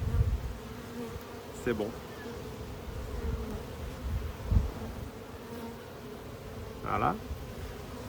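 Honeybees buzz steadily around an open hive during an inspection, a continuous close drone with individual bees passing by, while a person says a few brief words.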